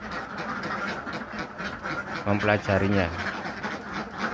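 Laying ducks quack in a short run of harsh, repeated calls near the middle, close by, while someone talks throughout.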